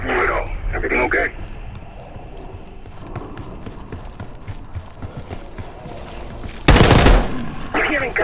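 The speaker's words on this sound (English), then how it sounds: "You hearing gunfire?" Gunfire in the Call of Duty Black Ops 6 zombie mission: rattling bursts near the start, a loud sharp volley about two-thirds through and more shots at the end, over a low ambient game background.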